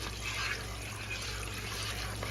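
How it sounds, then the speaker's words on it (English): A small spoon stirs liquid in a cooker pot while pork chops are being prepared, giving a steady close watery swish and trickle throughout with no talking. "we'll just give that a little stir with our little spoon that came with our cooker"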